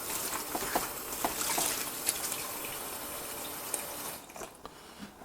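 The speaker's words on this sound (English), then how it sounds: "And you wash the veg." Vegetables for a Sephardic-style chicken soup are rinsed under a running kitchen tap, giving a steady, close splashing hiss with small clatters and splashes throughout, easing slightly near the end.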